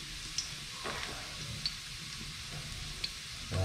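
Garlic sizzling as it fries in a pan for sautéed bitter gourd, a steady close crackle with a few brief stirring clatters and no talk.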